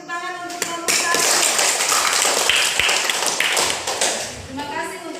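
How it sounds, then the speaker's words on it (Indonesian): Classroom applause for a student group after a presentation, a dense burst of many hands clapping that starts after a brief pause, stays loud for several seconds, then tapers off, with a voice briefly over the start. "Oke, tepuk tangan untuk kelompok 1."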